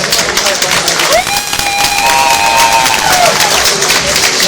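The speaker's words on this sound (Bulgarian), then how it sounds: "Аплодисменти още един път за тях." An audience at a sports awards ceremony applauds, a dense, steady wash of clapping that fills the hall, while a long sustained whistle-like tone rises and hangs briefly in the middle.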